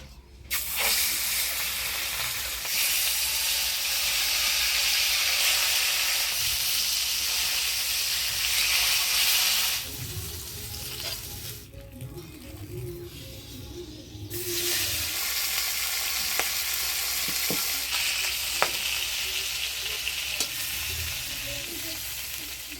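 Boal fish frying in hot oil in a heated kadai gives a loud, steady, broad sizzle with scattered clinks. The sizzle eases into a quieter, lower bubbling stretch in the middle, then flares up strongly again. No voices.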